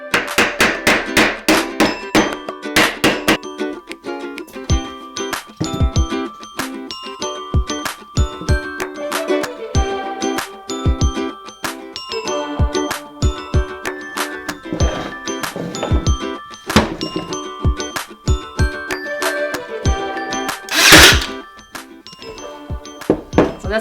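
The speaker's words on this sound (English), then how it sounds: "so it's gonna tap them in with my small hammer." A small hammer taps partly driven nails into a small wooden frame for a chair makeover: sharp, close, ringing metallic knocks in quick irregular bursts with brief pauses between them.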